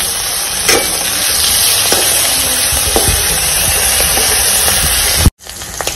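Fish fries in a pan with a loud, dense sizzle held steady, a few faint clinks of stirring over it, then a sudden break and a quieter resumption near the end.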